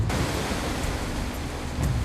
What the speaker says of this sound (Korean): 파도가 쉬 가라앉지 않고 있다.